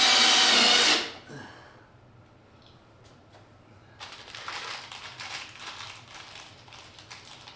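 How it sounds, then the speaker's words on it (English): A power drill drives a screw into the black plastic trim under a Tesla Model 3 Highland sideskirt, giving a loud burst of whirring, a pause with small clicks, then a grinding buzz as the screw bites. "This is screwing into the plastic."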